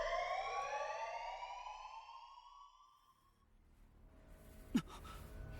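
A loud video game alarm rings in sustained layered tones that slide slightly downward and cut off midway, leaving a quiet low rumble and then a brief sharp thump near the end.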